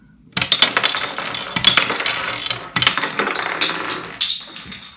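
A Lego B-Daman toy shoots marbles in test shots. Four or five sharp clacking bursts sound up close, each followed by hard rattling and clinking as the marbles bounce off and scatter.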